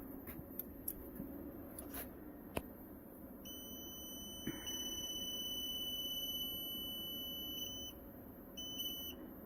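Growatt off-grid inverters powering up on a battery system give a few sharp clicks, then a steady high-pitched electronic beeping tone held for several seconds, quiet and close, with no talk.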